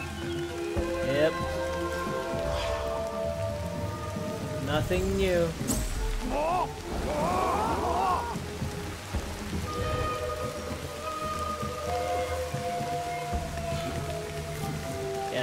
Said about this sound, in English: Oh, it's gonna rain!